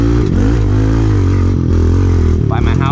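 Pit bike motorcycle engine running loud and close on a dirt trail, holding a steady droning pitch with a brief dip and rise near the end, continuous throughout.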